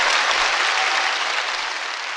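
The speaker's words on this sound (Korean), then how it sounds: "박수 주세요." An audience at a Korean political talk event breaks into dense, sustained applause that stays loud and even and fades slightly toward the end, with no voices over it.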